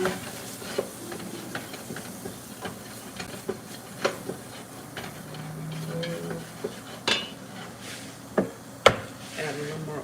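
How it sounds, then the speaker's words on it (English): A spoon scrapes and clacks against a pan while curry is stirred. Irregular sharp knocks and scrapes are spread over a soft background hiss, fairly close. "I'm gonna stir this up like this."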